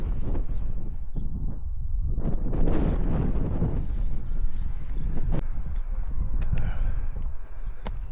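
Wind buffets the microphone on a walk through the Welsh countryside near Harlech, a loud continuous rumble with gusty surges and a few faint clicks and knocks, and no speech.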